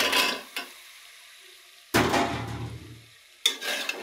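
Taro stolons being stirred with spices in a sizzling pan: three separate bursts of scraping and frying noise, close by, with near silence between them.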